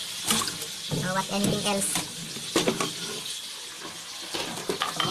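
Tap water runs steadily into a laundry basin, splashing and gurgling under a person's voice.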